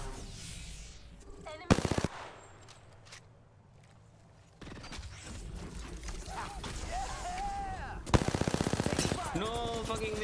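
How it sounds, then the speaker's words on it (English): Two loud, rapid bursts of automatic gunfire ring out in a video game, separated by quieter stretches of in-game noise and mechanical clatter, with voices speaking in the background. "They're shooting at me."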